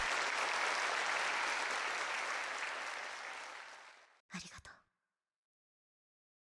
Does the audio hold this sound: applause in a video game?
yes